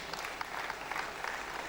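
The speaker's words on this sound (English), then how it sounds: "Can we have a big round of applause for Unmesh?" Audience applause greets a student called up on stage, a short, even wash of many hands clapping at a moderate distance.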